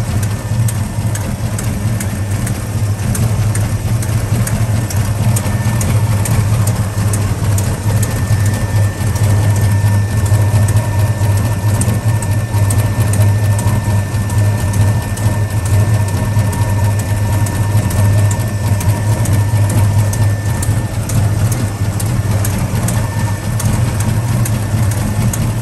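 1966 Chevrolet Chevelle engine idling slightly rough, a steady loud low-frequency rumble with a constant mechanical hum throughout, no speech.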